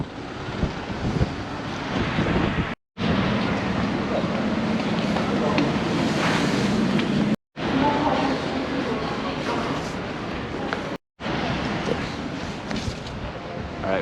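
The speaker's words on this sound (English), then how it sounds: "it's super cold. Look at the wind." Cold wind buffets the microphone near the Tower of London, a loud continuous roar with a few brief cuts, while a person talks over it throughout.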